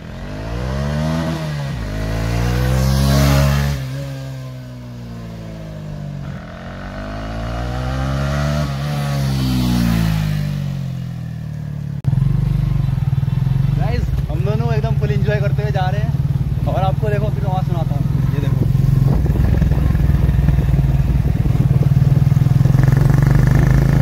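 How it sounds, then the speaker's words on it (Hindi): A Honda Hornet 2.0 motorcycle with a modified exhaust roars past twice, its revving pitch sweeping up and down in loud fly-bys, then idles and revs close by under talk. "आपको एक स्मूथ सी प्यारी सी फ्लाई बाई देंगे और आपको एग्जॉस्ट का साउंड सुनाया जाएगा"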